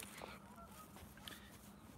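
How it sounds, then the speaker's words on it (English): Geese honking in the distance at night while camping in an urban area: a few faint, scattered honks over a steady low background hum, with no talk. "The geese honking in the distance."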